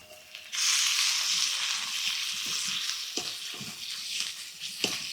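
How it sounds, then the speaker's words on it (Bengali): Ginger and garlic paste frying with onions in a pan, a steady loud sizzle that starts abruptly and runs on with a few stirring scrapes and knocks. "আদা রসুনও এক মিনিটের মতো কষাবো"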